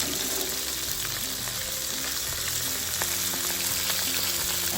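Prawns fry with onion in a pan, making a loud, dense and continuous sizzle close by, with scattered clicks of stirring and no speech.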